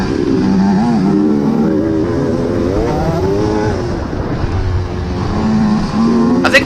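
Motocross bike racing around a grass track at Ashcraft Farms, its engine droning loud and steady with rising and falling revs as the rider lays into the rear tire, a sharp burst near the end.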